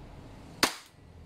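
A single sharp crack from an EMG Taran Tactical Pit Viper gas airsoft pistol, close and loud, with a brief decaying tail into quiet room tone.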